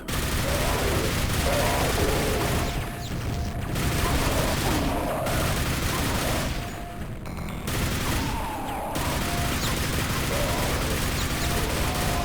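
Rapid nailgun fire from Quake in a Brutalist Jam 3 map, a dense continuous stream of metallic shots with brief gaps, loud and close over game noise.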